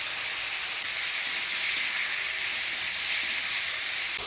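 Cut potatoes, eggplant and vegetable stalks hitting hot oil after a tempering of dried chillies and whole cumin, a steady loud broadband sizzle that holds evenly throughout with no talking.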